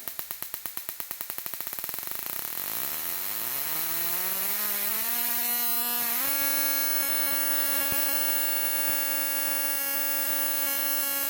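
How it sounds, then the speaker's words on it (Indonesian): A CDI igniter runs as a steady electric buzz that speeds up from separate rapid ticks into a rising whine as the RPM is raised, then holds a constant high-pitched drone at maximum. No one speaks over it. "Saya nyalakan igniternya. Saya naikkan RPM-nya."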